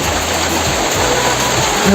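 Rain pouring down in the courtyard of a house in India, a dense, loud and continuous hiss of falling water close by, with a faint low hum underneath and no clear talking.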